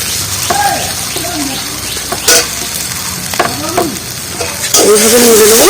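Spices fry in a pan with jackfruit and egg under a loud, constant sizzle, with repeated stirring scrapes and a few squeaky utensil sweeps against the pan, close up.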